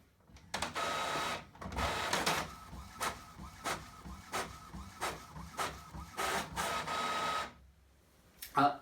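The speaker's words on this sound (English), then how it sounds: "The next thing I don't like about this printer is the noise. Yes, it makes a racket." An Epson ET-4550 EcoTank inkjet printer runs loudly in bursts, whirring and rattling in repeated pulses that stop and start, then falls quiet before a final clunk.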